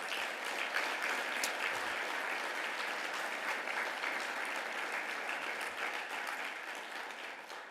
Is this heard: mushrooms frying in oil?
no